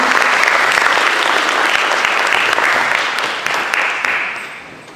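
A school PTSA meeting audience gives a round of applause, loud close clapping from a roomful of parents that holds steady and then tapers off toward the end.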